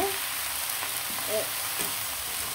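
Red amaranth greens frying in oil with fried onion and garlic, a steady close hiss of sizzling with a few soft clicks of a spatula stirring through the leaves.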